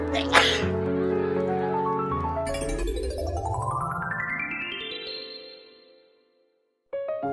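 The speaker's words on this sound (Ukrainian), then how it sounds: "коли раптом поруч хтось чихнув" A cartoon sneeze in a Ukrainian children's animated story, one sharp burst near the start over a musical score, followed by a rising sweep and a short silence before the music resumes.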